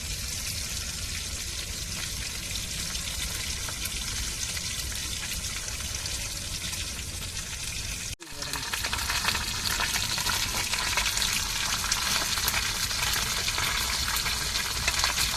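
Fish frying in a pan for a coconut milk rasam meal, a loud continuous close sizzle and crackle that cuts out briefly midway and resumes a bit stronger.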